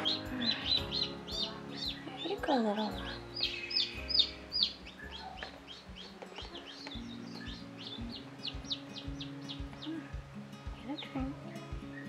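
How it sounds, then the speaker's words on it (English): A newly hatched, still-wet chick gives repeated high, thin peeps and chirps close by, over a busy barnyard background of other fowl calls, soft clucks and low rumbling. "we got a wet chick that we need to get back to the brooder ASAP"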